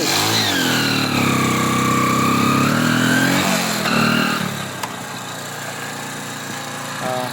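A motorcycle engine runs close by on a mountain road, steady and loud, its pitch rising and falling as it revs, then settling to a lower hum.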